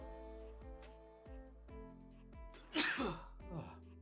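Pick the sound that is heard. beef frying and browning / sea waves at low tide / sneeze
sneeze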